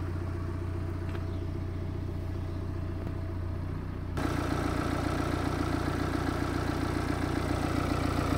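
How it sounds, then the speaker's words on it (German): A 2010 Mini Cooper diesel with six-speed gearbox idles smoothly and steadily, a close, even engine hum that grows slightly louder and fuller midway through. "Motor läuft ganz ruhig, keine Geräusche."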